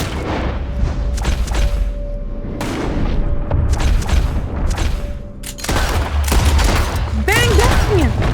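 Gunfire in the video game Red Dead Redemption 2: dense, loud rounds of shots and booming reports pile up over a rumbling backdrop, with game voices mixed in.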